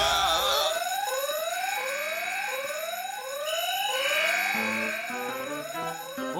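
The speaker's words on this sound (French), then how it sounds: "L'alarme a dû se déclencher toute seule." A fire alarm going off by itself indoors in an animated school scene, sounding a loud, continuous electronic whoop that rises in pitch over and over in a fast, even cycle.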